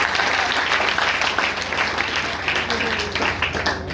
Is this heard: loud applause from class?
yes